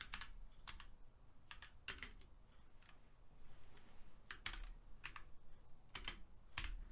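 Typing on a computer keyboard during a programming tutorial, with irregular bursts of crisp key clicks separated by short pauses, close and fairly quiet over a low room hum.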